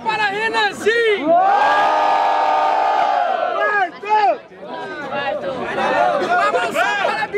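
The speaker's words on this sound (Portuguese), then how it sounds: "Barulhos para Renanzinho" A large crowd at a rap battle roars and shouts together, loud and sustained, with bursts of whooping and cheering voices swelling and dipping throughout.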